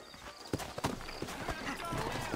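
Horse hooves clip-clop in the Western video game Red Dead Redemption, set in a New Austin town. The hoofbeats are scattered and fairly faint, with a voice speaking softly underneath.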